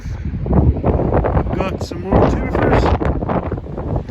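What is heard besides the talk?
wind while working on a roof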